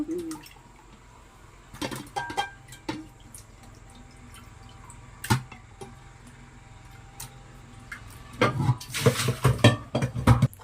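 Fish being rinsed in water in a kitchen: scattered splashes, drips and clinks of a metal pot or bowl, quiet at first, then a denser burst of sloshing and clattering near the end.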